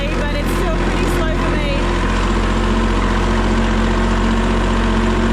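A tractor's engine runs at a steady, loud, close drone with a deep rumble and constant vibration, holding an even pace without pause.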